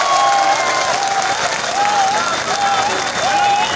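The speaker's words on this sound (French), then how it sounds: "Est-ce qu'on peut applaudir pour le professeur Pascal Lissouba?" A huge stadium crowd at a campaign rally applauds and cheers continuously for Pascal Lissouba, a dense roar of clapping and voices held at a steady loud level with whistles above it.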